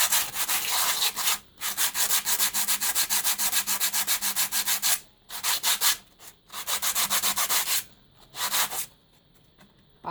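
Sandpaper scrubs the hardened cement mortar of a handmade vase in quick, rhythmic rasping strokes, loud and close, broken into bursts by a few brief pauses.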